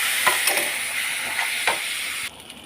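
Chopped ginger, turmeric, chilli powder and chopped tomato fry in hot oil with a loud, even sizzle and several quick spatula scrapes, close up. The sound cuts to a much quieter level near the end.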